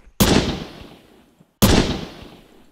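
Two sharp, loud gunshots from the game Poxel.io, each cracking hard and then fading into a long echo, about a second and a half apart, with no talk.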